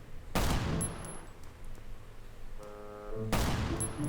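Gunfire in the survival video game Last Island of Survival, with two loud sharp bursts of shots about three seconds apart and quieter game sounds between them.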